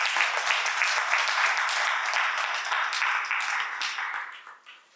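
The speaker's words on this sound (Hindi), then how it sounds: "बहुत सुंदर सेशन गुरु जी का एक बार जोरदार तालियों से स्वागत।" An audience gives loud, dense applause welcoming a guru after a spiritual healing session, a thick steady roar of clapping that thins and fades out in the final second.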